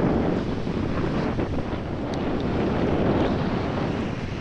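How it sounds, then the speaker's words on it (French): Wind rushing over a sailboat heading toward Hyères, a loud steady buffeting roar across the microphone with water and hull noise underneath and no voices. "Ah, le vent."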